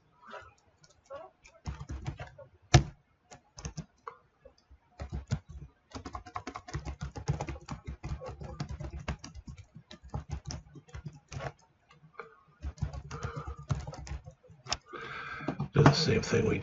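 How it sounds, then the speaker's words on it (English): Rapid, uneven clatter of typing on a computer keyboard while writing Python payroll code, bursts of keystrokes running almost continuously at close range with brief pauses. "Like I said, this is a bit of typing."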